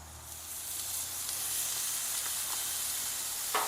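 Chorizo sizzles steadily on a hot Blackstone flat-top griddle beside potatoes, a dense continuous crackling hiss with a few faint scrapes and no voices.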